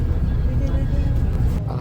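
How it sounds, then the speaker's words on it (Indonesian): Inside a bus travelling from Singapore to Johor Bahru, a low steady engine rumble and cabin hum fills the space at moderate loudness, unbroken and close. "kita sudah sampai di dalam bus"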